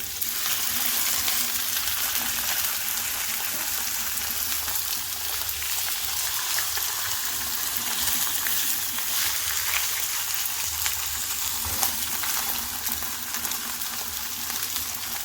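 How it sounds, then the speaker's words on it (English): Three fish frying slowly in a pan until the skin turns crispy, giving a steady, soft crackling sizzle that runs evenly throughout with no talk. "So we cook it very slow cook until the skin are very crispy."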